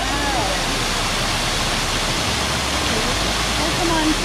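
Waterfall splashing in the elephant enclosure at the St. Louis Zoo, a steady broadband rush of falling water filling the scene, with faint voices underneath.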